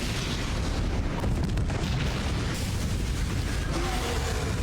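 Explosion in a Smallville TV episode: a loud, sustained rumbling boom filling the whole moment with dense low roar and debris-like crackle.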